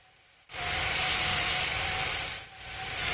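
Airplane engine in a flight simulator game climbing after takeoff: a loud, steady broadband roar that swells in abruptly after a quiet start, dips briefly, then rises again.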